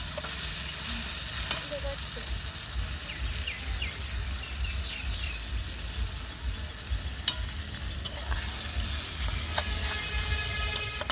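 Food fries in oil in a pan over an outdoor wood fire, a soft, steady sizzle broken by stirring scrapes and clinks, while birds chirp faintly in the background.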